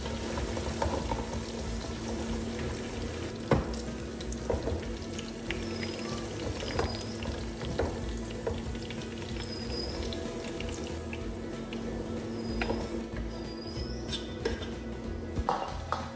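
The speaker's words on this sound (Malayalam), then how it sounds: "എന്നിട്ടിത് അടച്ചു വെച്ചിട്ട് വേവിക്കുന്നുണ്ട്" Chicken curry for a Pakistani recipe simmering in a covered pan, a steady bubbling and sizzling hiss that runs throughout with a few small clinks, moderately quiet and with no voices.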